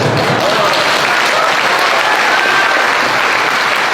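Loud, sustained audience applause filling a crowded Islamic lecture hall at the Islamic Center Mataram, a dense unbroken clatter of many hands clapping throughout.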